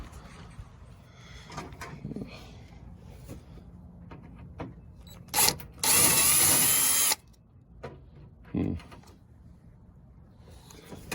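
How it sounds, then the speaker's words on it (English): A power drill whirs loudly for just over a second, drilling out parts of an RV awning handle, set among quieter clicks, taps and handling noises. "if we drill them out,"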